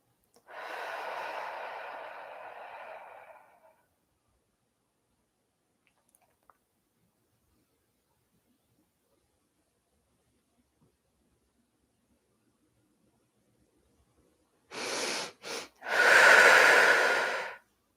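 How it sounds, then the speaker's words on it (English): Breath drawn in through the nose and released out through the mouth during an energy exercise, heard as a long audible exhale near the start, then quiet, then several strong close breaths at the end. "Bringing the energy up and breathing in through the nose and out through the mouth."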